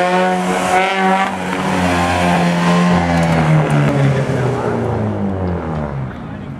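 A car on a track lap accelerates hard and loud at close range. Its engine tone climbs, dips at the upshift into second gear, then climbs again, with a voice talking over it.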